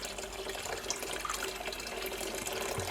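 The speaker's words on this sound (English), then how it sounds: "it is draining, but very slowly, because all of the sediment has blocked the cloth" Homemade dry beer trickling slowly through a cloth clogged with sediment, a continuous soft watery drip and seep at close range.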